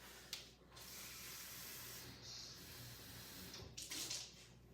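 A kitchen tap runs as water fills a cup for cooking rice, a steady close rushing stream with brief clinks and bumps at the start and near the end.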